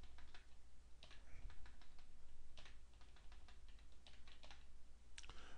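A computer keyboard is typed on to enter a network configuration command, with irregular bursts of soft, close key clicks over a quiet low hum and no talk.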